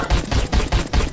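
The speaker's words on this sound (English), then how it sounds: "It took two shots for the plasma shotgun to get him." Plasma shotgun blasts in the video game Gunnheim, a loud series of four or five heavy, punchy shots at a steady rhythm, each with a deep low thump.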